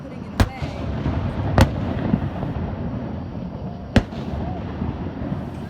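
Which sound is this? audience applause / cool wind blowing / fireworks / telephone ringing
fireworks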